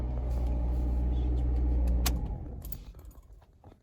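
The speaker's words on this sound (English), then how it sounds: "It's a little bit rough. Rough start there. Cold start." A 2019 Subaru Impreza hatchback engine cold-starting and running rough: a loud, steady low rumble for about two seconds, then a sharp click, after which the engine noise fades and grows uneven. No talking.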